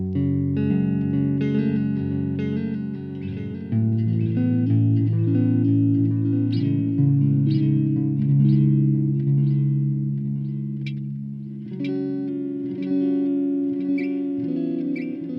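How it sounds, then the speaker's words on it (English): Electric guitar played through a Donner Cyclops amp with a bassy echo effect, sustained chords and picked notes trailing into repeating echoes and reverb, loud and close with no talking. "Maybe more of a bassy echo than, say, the pure one"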